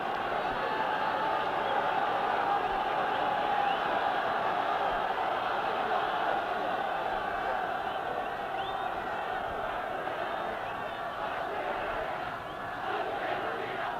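Large stadium crowd at a 1968 Argentina versus Wales rugby union test, shouting and roaring steadily throughout, a dense sustained wall of voices with distant cheers rising and falling.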